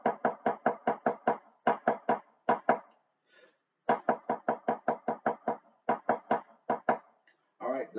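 Snare drum playing a drumline 'one anda' sticking, 16th notes with the first left stroke removed: repeated bursts of crisp strokes in even groups with short gaps, close and loud, a pause midway, and a voice starting at the end.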